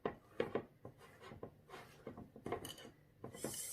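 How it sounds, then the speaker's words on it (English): Fingers rubbing butter into flour for caramel squares, a quiet close-up of soft gritty rubbing and crumbly scratching in irregular short bursts, no talk. "Just rub your thumb and your fingers together and break up them lumps of butter."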